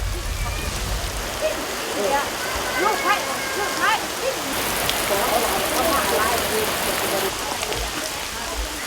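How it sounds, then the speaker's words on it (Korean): Heavy raindrops falling on a coffee farm in Laos during a December midday, a steady broadband patter of rain on surfaces, fairly loud and continuous, with brief bursts of birdsong and voices of workers talking underneath. "하늘에서 갑자기 굵은 빗방울이 떨어지기 시작한다."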